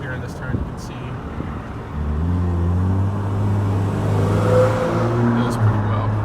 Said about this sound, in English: the 6-cylinder definitely sounds good